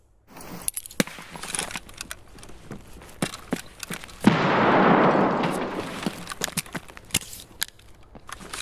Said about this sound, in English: I'm gonna use utility grenades